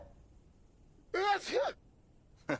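A single sharp sneeze with a quick intake of breath before it, close and fairly quiet against a near-silent background, then a short breathy exhale.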